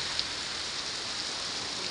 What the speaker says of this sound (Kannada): ತುಂಬ ಜೋರಾದಂಥ ಮಳೆ ಬರ್ತಾ ಇರೋದ್ರಿಂದ